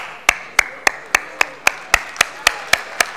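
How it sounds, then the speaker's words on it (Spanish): Crisp, evenly spaced claps ring out in a steady rhythm, about a dozen sharp hits at a brisk tempo, close and clear with no talking over them. "Un aplauso para ustedes."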